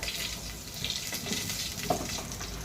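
Bay leaf, cumin and asafoetida sizzle in hot oil, a steady close frying hiss with a few soft clinks, heard alone without talk.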